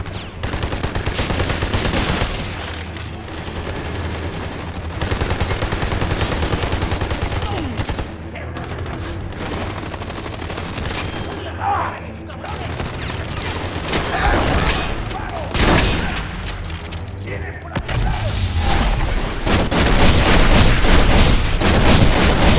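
A dense barrage of gunfire and explosions from the shooter game Army of Two: The Devil's Cartel: continuous loud rattling fire with booming blasts throughout, and a voice briefly heard beneath the din.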